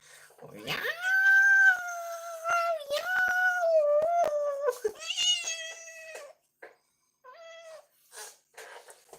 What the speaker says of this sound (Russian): Любима моя кошка